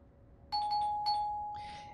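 A doorbell rings in the horror video game The Nightfall: a clear two-tone chime sounding twice in quick succession, then a sustained decaying tone, fairly close against a quiet background.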